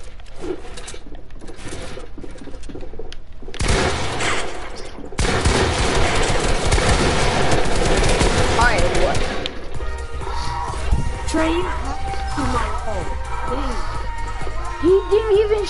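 Video game gunfire crackles through a dense, loud stretch in the middle, with sustained bursts of rapid shots and crashes. Quieter game sounds come before and after, and a voice speaks over part of it.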